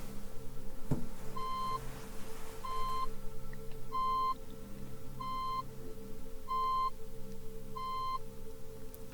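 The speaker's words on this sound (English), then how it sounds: "I want you to listen to the total number of beeps" Six short, identical electronic hearing-test beeps at a steady pace, each about a second apart, over a faint low background hum.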